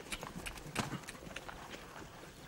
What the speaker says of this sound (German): Lucy wird so lange angetrieben, bis sie flüssiger galoppiert